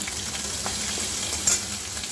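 A tiny amount of ginger goes into hot oil with tempered spices for a rui fish curry with elephant foot yam, giving a close, steady frying sizzle with faint stirring, alone and without talk.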